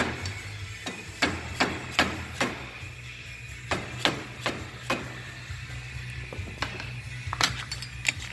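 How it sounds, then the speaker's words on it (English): A small hammer taps a screwdriver to wedge the hub cap off the driver-side rear wheel of a 2018 X3 XRS, giving a steady series of sharp metallic knocks close by with no talking. "I'm going to just kind of use a screwdriver and a little hammer to wedge it off"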